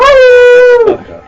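A person imitates a dog howling, one long, loud, close wavering howl that holds its pitch before dropping away at the end.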